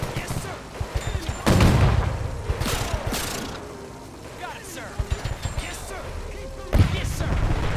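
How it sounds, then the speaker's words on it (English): Tank cannon blasts and scattered gunfire in the WW2 strategy game Men of War 2, several heavy booms and crackling shots spread irregularly over a battle din, with a voice talking over them. "You can already hear the shots going off. The tanks just laying waste to the enemy column up ahead."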